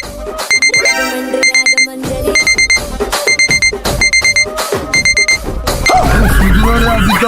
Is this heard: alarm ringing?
yes